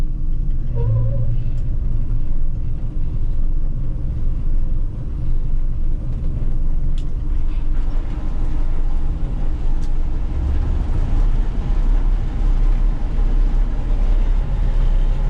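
A combine harvester's engine runs after starting, a loud, close, steady low rumble and drone that deepens toward the end.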